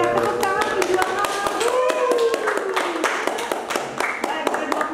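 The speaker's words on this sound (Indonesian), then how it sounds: "Iya, tepuk tangan perjuangan." A group claps in a lively, rhythmic burst of applause at a televised talk-show gathering, with sharp, distinct hand claps under overlapping voices and music-like tones.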